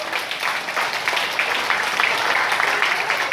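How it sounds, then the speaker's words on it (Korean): Audience applause fills a lecture hall at Seoul Citizens Hall as a guest speaker is introduced: steady, dense clapping from many hands, moderately loud and even throughout, with no voices over it. "큰 박수 부탁드립니다."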